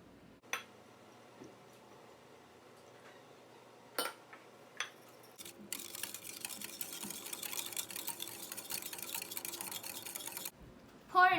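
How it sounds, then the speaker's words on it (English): Electric mixer whirring through milk and egg yolks for custard, a steady buzzing drone for several seconds after a few knocks and clicks, then cutting off. "Get a mixer, pour in your milk, and mix."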